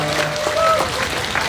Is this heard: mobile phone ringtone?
no